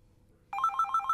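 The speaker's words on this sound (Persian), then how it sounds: "جواب تلفن رو بده" A telephone bell starts ringing suddenly after a moment of silence, a clear electronic trill repeating rapidly and steadily at close range.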